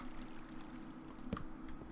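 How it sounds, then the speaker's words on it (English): Water flows in a Minecraft-style hardcore survival game, a steady low gurgling stream with one brief splashy blip near the end. "Ooh, water."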